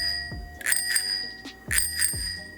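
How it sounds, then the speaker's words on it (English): Bell on a restored 1919 WW1-era bicycle rung twice in quick double strikes, bright ringing tones close by with a short ringing decay, no voices. "And lastly, that bell one more time."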